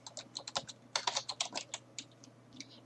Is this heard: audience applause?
no